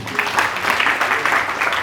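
Audience applause for a comedian at a Diwali get-together awards night, a steady dense wash of clapping from a crowd lasting throughout with no voices on top.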